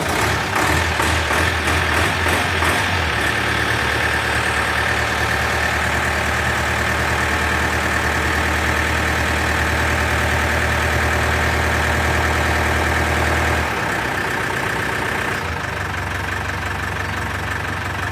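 An old Stagecoach Mercedes minibus engine turns over and settles into a steady, loud diesel idle, a continuous low rumble with a slight knock, close up, shifting tone near the end.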